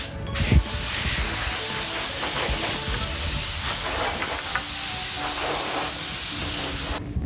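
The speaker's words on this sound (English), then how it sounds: "we're gonna blow this off with compressed air just to get the last bit of dust off" Compressed air blasts dust off stained faux shiplap boards in a steady, loud hiss lasting several seconds, with a short burst at the start and the flow cutting off abruptly at the end.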